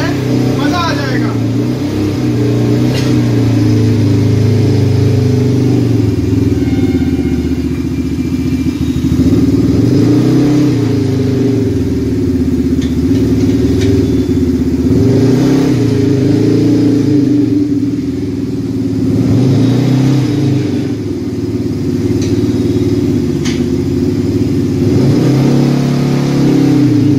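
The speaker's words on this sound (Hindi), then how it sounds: "बुलेट वाली आवाज है जो पहले होती थी, बुलेट वाली बढ़िया आवाज है" A 2022 Xtreme 300cc ATV with a double silencer revs its engine: a loud, close, thumping idle rises repeatedly into throaty surges, heavy and continuous, with someone talking over it at times.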